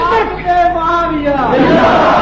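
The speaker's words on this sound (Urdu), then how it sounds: "ابھی یہ جو نعرہ لگا رہے تھے نا سیاست معاویہ، نعرے تکبیر، سیاست معاویہ" A crowd at a religious gathering in Pakistan chants slogans in unison, a loud sustained group cry that rises and swells over two seconds.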